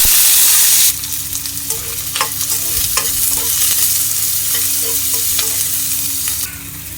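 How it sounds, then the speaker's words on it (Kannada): Green chilies, curry leaves and chopped onions frying in oil, a loud close continuous sizzle with repeated spoon scrapes and taps as they are stirred, no talk. "ಸೊ ಇದನ್ನು ಈಗ ಎಣ್ಣೆಯಲ್ಲಿ ಹಾಕ್ಕೊಳ್ಳೋಣ."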